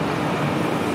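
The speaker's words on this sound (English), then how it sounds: "our sound is not going to be so well since you can hear the generator in the background" A generator drones steadily in the background at a water plant in Lango, Uganda, a continuous broadband rumble with no breaks.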